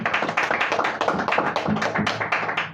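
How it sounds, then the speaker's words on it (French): Studio audience in a radio studio clapping loudly for a performer, a dense, continuous patter of many hands close by with little talk. "on l'applaudit très fort"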